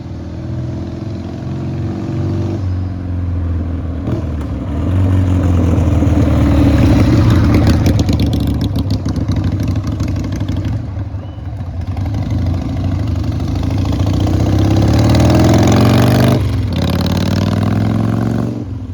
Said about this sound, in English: This bike is running very good.